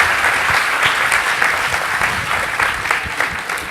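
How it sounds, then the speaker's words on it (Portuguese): Sustained audience applause at a Ntalks innovation event, a dense, steady wash of many hands clapping that stays loud throughout. "Uma salva de palmas, por favor."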